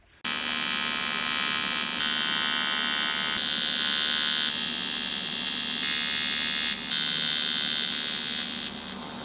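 An electric polishing tool runs against the welds of an oil drain tank for a Subaru EZ30R turbo swapped Porsche, giving a loud continuous high whine that holds steady and shifts pitch slightly a few times.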